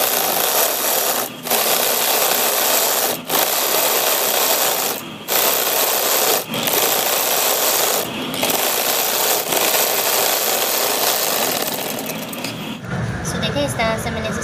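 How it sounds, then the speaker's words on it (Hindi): An electric sewing machine stitches a seam along the overlocked edge of a palazzo, a loud, close, continuous motor whir broken by several brief stops before it winds down near the end. "तो चलिए इस पर सिलाई लगाते हैं।"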